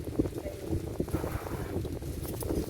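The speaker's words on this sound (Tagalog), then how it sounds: "Mahangin eh." Gusty wind buffets the microphone outdoors, rumbling and uneven, with faint voices and water-like movement in the background.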